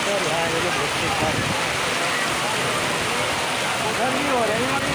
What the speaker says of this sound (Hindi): बारिश का बुरा हाल है।